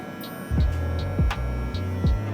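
Electric hair clippers hum close by during a taper fade, a low steady buzz that swells and drops in repeated strokes as the blade passes over the head.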